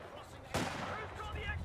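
Gunfire in Company of Heroes 2 during a German versus British match, a sudden loud burst of shots that settles into a continuous rattle of battle noise under faint voices.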